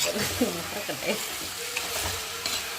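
Masala pasta is stirred in a frying pan over a steady, close sizzle, with scraping strokes of the spoon rising above the frying hiss and no talking.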